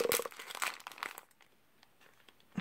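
Wrapping paper around a package crinkles and tears in several quick bursts up close, then quiets to faint rustling before one more crinkle at the end.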